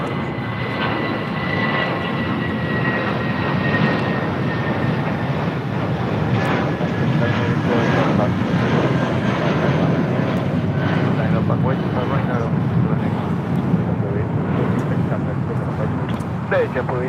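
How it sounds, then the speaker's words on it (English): Japan Airlines Boeing 787-8 Dreamliner taxiing at LAX, with a steady, loud jet engine roar that holds throughout and someone speaking over it. "I believe we have another Japan Airlines Dreamliner, 787-8 Dreamliner."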